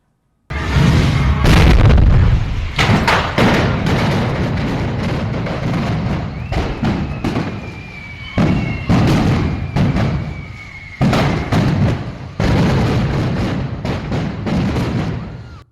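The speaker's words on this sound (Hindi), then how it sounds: "वो सिलेंडर फट पड़े, जोरदार धमाके हुए, आग लग गई" Repeated heavy blasts from gas cylinders bursting outside a church during a religious festival in Jalisco, Mexico, loud booming thuds in quick clusters with crowd commotion and crackling between bursts.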